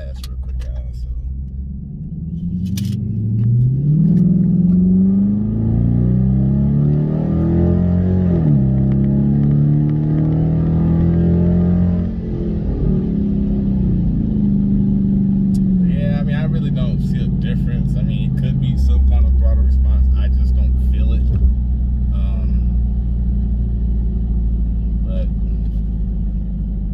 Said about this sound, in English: I'm gonna do a quick U-turn and do a hard pass real quick